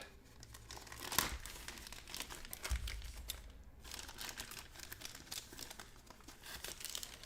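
A plastic bag crinkling and tearing around a GMT Games Labyrinth: The War on Terror map board, close, fairly quiet handling noise with irregular crackles and a couple of sharper rustles, no speech.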